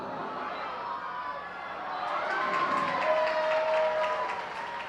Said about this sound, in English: as you can hear by the applause here at FirstEnergy Stadium